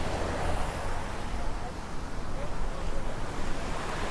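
Wind and waves on a Punta Cana beach near Vista Sol, a continuous broadband roar of surf mixed with gusty wind buffeting the microphone, steady and fairly close.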